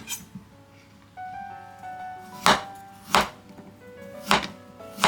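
A knife chops through fresh ginger on a cutting board, cutting it into slightly thick strips. Four sharp, distinct knife strikes come close and loud, spaced unevenly over a quiet background with a faint tonal hum.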